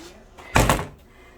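Kitchen cupboard door shutting once with a single solid thunk in a quiet room.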